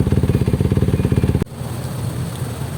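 Motorcycle engine in slow traffic, loud and close, with a rapid steady low-pitched putter that cuts off abruptly midway, leaving a duller background rumble of road noise.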